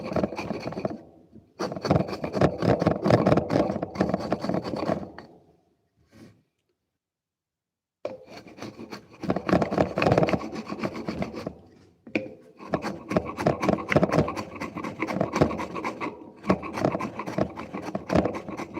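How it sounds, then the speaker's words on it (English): A chisel pares wood by hand while a butcher block mallet is made, with repeated close, dry rasping strokes in long bursts broken by short pauses and one longer silence. "Just lay the chisel flat on the bottom."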